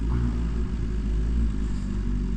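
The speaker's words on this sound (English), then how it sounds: "Oh boy, this bike is loud." A brand-new BMW M1000RR sport motorcycle idles nearby with a deep, steady engine rumble that holds throughout. No distinct pops stand out.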